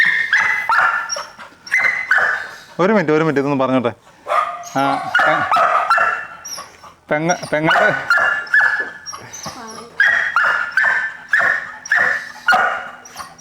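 A six-month-old Labrador puppy, freshly bathed, barks and whines to be let out, with loud, repeated yelps and whimpers close by, mixed in with a person talking.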